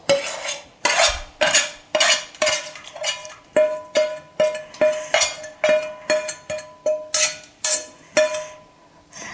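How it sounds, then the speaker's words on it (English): A metal spoon repeatedly clinks against a bowl while scooping sautéed garlic, butter and onion, about twenty bright, ringing taps in a steady uneven rhythm, close and clear with no talking. "I've gone ahead and sauteed my garlic, butter, and onion, so I'm just going to put them into the bowl"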